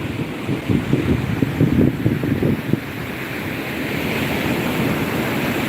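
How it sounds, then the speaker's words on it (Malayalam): Big ocean waves crash and roll onto Vettukad beach with a loud, continuous surf roar and buffeting wind noise, a rougher churning burst early on before settling into a steady wash. "അതാ വരുന്നു വലിയ തിരയാണ് വരുന്നത് കേട്ടോ"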